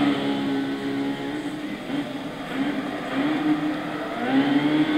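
Light Car Rocket motorcycle-engined sports car in Gran Turismo 6, its engine droning with a steady high whine that rises and falls as it revs, continuous and fairly close.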